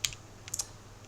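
Keys clacking on a computer keyboard in a few quick, faint taps with pauses between, close by in a quiet room.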